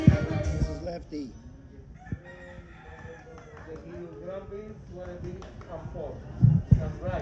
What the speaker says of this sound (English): you can see more chickens too